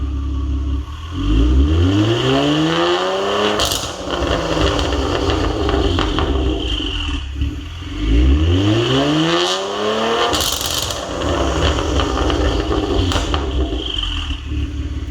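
An older Kia Stinger fitted with a Zbiel titanium variable exhaust revs hard twice, each time a deep rising roar that climbs, then falls back to a rumbling idle. The sound is close and loud, with sharp crackles between the pulls.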